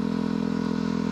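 A motorcycle engine runs steadily at a constant rumbling pitch, loud and close, with no voices.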